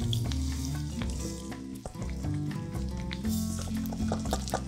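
Raw rice sizzles and is stirred in a pan with fragrant onions and pandan leaves while cooking Hainanese chicken rice, a steady dense frying crackle with scraping stirs over constant background music.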